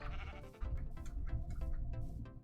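A sheep bleats in Minecraft, a few wavering nasal bleats close and clear over a quiet background.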